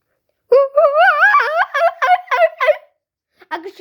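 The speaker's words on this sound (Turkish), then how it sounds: "Kuşları da gösterim." Birds call with rapid, warbling gobbles much like turkeys, a loud close burst of rolling notes, then a short pause and a brief further call.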